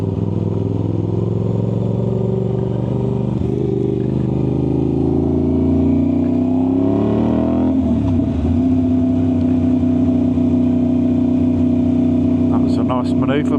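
Aprilia RS660 sport motorcycle running lean in commute mode on a road test ride, engine droning steadily with rising and falling pitch through gear changes and smooth throttle, loud and close from the rider's position, with talk over it.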